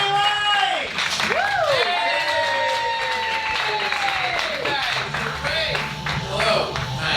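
Audience at a live comedy game show clapping and cheering, a steady burst of applause with voices on top and whooping tones rising and falling throughout.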